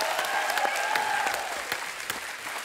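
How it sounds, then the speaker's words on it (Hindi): Enthusiastic applause from a studio audience on a Hindi comedy talk show greeting arriving celebrity guests, fairly faint, sustained clapping with a few sharper claps standing out and some tonal music or cheering mixed in. "जोरदार तालियां हो जाए।"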